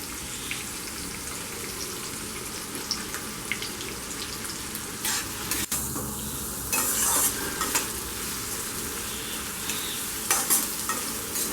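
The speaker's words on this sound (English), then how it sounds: "Here we will add the onions. 2 onions finely chopped." Two finely chopped onions frying in a heated pan for a beetroot pulao, giving a steady, close sizzle with scattered stirring scrapes and small clinks, no voices.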